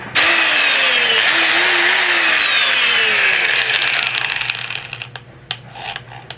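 An angle grinder runs after a brush replacement, giving a loud high whine that holds steady and then spins down with rattling clicks as it slows.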